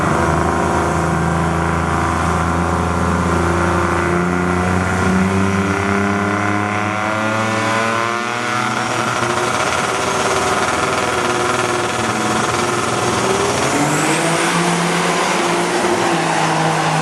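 A 1987 Buick Regal race car accelerates hard at a Buick drag racing event in Norwalk, Ohio, its engine note climbing steadily and loudly through rising harmonics for the whole stretch, with other engine noise running underneath.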